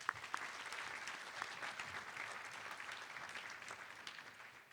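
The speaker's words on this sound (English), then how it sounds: "Give him a round of applause." A workshop audience applauds a panel speaker, the former CEO of the National FFA organization, with steady, moderately distant clapping that holds evenly throughout and is quite faint overall.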